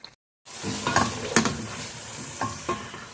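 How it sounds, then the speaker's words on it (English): Tomato for Nigerian okra soup fries on medium heat while being stirred, a short pause then a steady sizzle with several distinct scraping strokes of the spoon. "Allow this to cook on a medium heat until the tomato dries."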